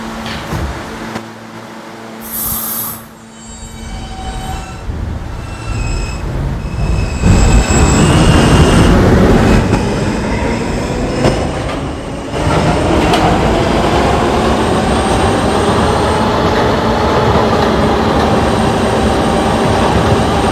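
R160A subway car on the K line in the Roblox PTA game rolling and accelerating along the track, a loud continuous rumble with rising whine and wheel squeal, a short chime near the start, no voices.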